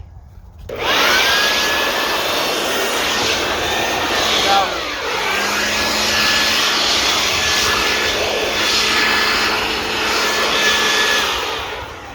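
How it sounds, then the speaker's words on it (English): A handheld electric air blower runs steadily and loudly for the whole stretch, a continuous whooshing roar with a high whine, its pitch shifting slightly partway through. "item I use so far up to date is this, an air blower."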